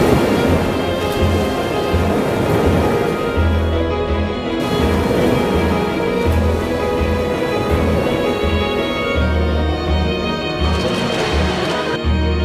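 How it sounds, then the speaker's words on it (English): Roaring wind gusting to 50 knots and heavy 40-foot swells crash and churn loudly and continuously, a deep rumbling storm at sea in the Drake Passage. "With winds gusting to 50 knots and 40-foot swells, the Drake lives up to her reputation."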